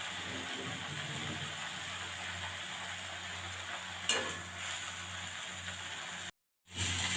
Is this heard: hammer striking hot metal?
no